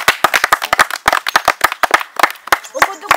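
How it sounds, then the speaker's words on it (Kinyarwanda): Sharp, close hand claps ring out in quick irregular bursts as people applaud the village road work, loud and distinct with a few voices underneath. "ndumva mwakiha amashyi"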